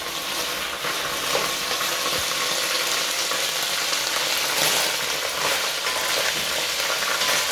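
Beef stew meat frying in a pot, a dense continuous sizzle with scraping and stirring noises running throughout, close and fairly loud.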